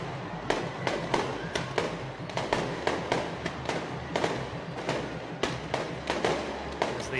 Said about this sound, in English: with fireworks that signal the opening